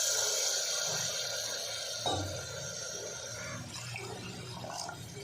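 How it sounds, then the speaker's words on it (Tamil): About two cups of water pour steadily into a cooking pot, a continuous splashing flow that shifts slightly in tone as the vessel fills, heard up close with no talking. "இதில் 2 கப் அளவுக்கு தண்ணி சேர்த்துக்கிறேன்"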